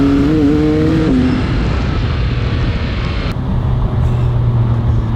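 A rear-wheel-drive 570-horsepower supercar accelerating, its engine note climbing through a gear before a shift, then settling into a lower steady roar under wind noise.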